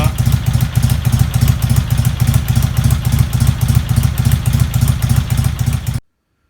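A BSA A70L Lightning motorcycle, just back together after a head gasket leak repair, idles while warming up with a loud, close, steady rhythmic chug before cutting off abruptly.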